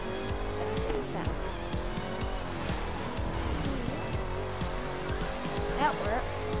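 Handbrake skid in The Crew 2 racing game on a snowy day: tire squeal and skidding over a steady engine roar, loud and continuous, with a rising screech near the end.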